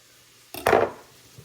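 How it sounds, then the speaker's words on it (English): A knife strikes a board once or twice in quick succession, rough-chopping silver beet for a 30-minute homestead meal; brief, close, woody knocks with quiet pauses around them and no talking. "So I'm going to go ahead and just give this a rough chop and stick it in with the onions."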